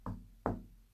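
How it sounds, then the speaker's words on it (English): Two distinct knocks on a hard surface, evenly spaced less than half a second apart, the second louder, close and alone in a quiet room during a spirit communication session. "Spirit, I'm going to knock."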